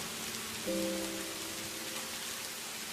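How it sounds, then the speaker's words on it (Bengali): Steady heavy rain pours down throughout, a dense even hiss of drops on surfaces during a Kalbaishakhi storm, with a brief faint tonal hum rising over it early on. "আবারও জোরে ঝমঝম করে বৃষ্টি হতে শুরু করে"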